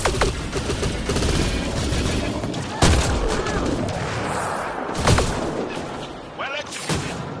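Rapid gunfire rattles through a firefight in the video game Mass Effect Andromeda, with sustained bursts, a few sharp louder blasts and booms, and character voices calling out over the shooting.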